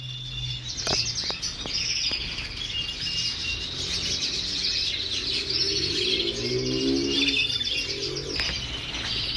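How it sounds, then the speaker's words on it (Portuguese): Two lineolated parakeets, a turquoise-blue male and a cobalt female kept as a pair, chirp and twitter steadily in close, overlapping high calls, with a few sharp clicks and a soft low warble midway. "Casal de Catarina."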